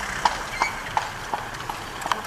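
A horse's hooves clip-clop at a walk on a street in Monaco, a steady series of about six distinct, fairly close knocks with faint background ambience.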